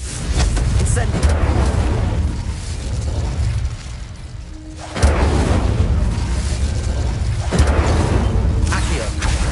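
An Incendio fire spell erupts in Hogwarts Legacy, heavy roaring bursts of flame with deep booming rumble, a short dip near the middle before another loud surge.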